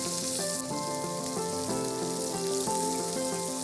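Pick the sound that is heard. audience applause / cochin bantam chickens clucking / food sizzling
food sizzling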